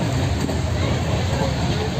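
Inside a moving passenger train bound for Tirupati, a low rumbling drone with a steady rattling hum fills the space, continuous and fairly loud throughout.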